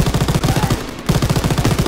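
Rapid machine gun fire from a World War II D-Day battle in Call of Duty WW2: loud, close, evenly spaced bursts that break off for a split second, then resume at the same steady pace.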